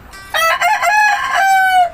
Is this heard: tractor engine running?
no